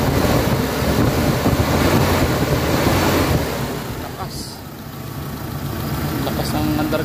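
A Mitsubishi Adventure's 4G63 gasoline engine runs loudly after ignition coil and distributor repairs. Its dense, rumbling drone dips briefly midway and then swells back, with a voice partly audible over it.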